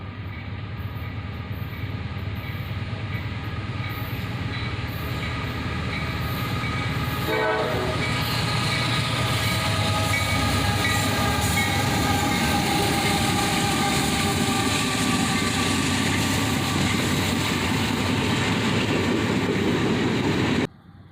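A train passes on the main line in Vandalia, Ohio, with a steady loud rumble and rail clatter that builds and holds for about twenty seconds, its horn sounding partway through, before cutting off abruptly.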